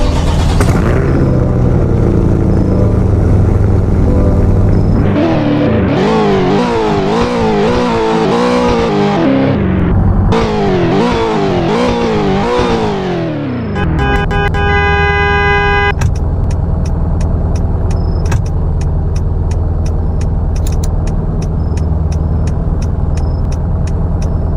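A Hennessey H700 Corvette in Roblox Greenville revs hard through several rising and falling sweeps, then settles to a steady idle while repeated electronic clicks or chimes sound over it. The engine is loud and close throughout.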